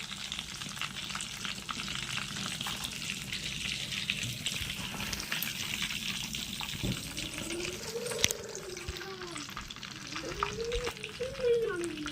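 Chicken pieces for chilli chicken deep-fry in hot oil, giving a steady crackling sizzle close by, with occasional stirring clinks and someone speaking over it.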